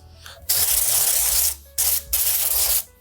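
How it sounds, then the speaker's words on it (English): Avocado oil sprays onto chicken wings in short bursts: a long hiss, a brief pause, then two more sprays in quick succession, close and loud. "I'm going to give these a light spray on the top."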